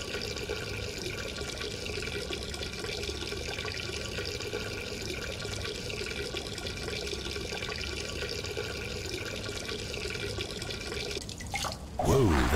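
Footsteps wade through cold, deep water in the Duke Nukem Forever video game, a continuous sloshing and trickling wash that runs steadily before a sharper splash near the end.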